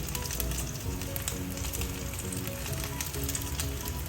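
Corn malai kebabs fry in a pan with a dense, even sizzle and crackle that holds steady throughout, with no voices over it.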